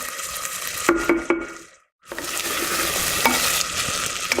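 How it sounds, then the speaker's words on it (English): Onion, ginger and garlic sizzle steadily in a hot pan, broken by a few sharp stirring scrapes and a brief pause before the frying hiss returns, close and clear with no talking. "I'm going to let that saute just for a couple of minutes until everything softens up."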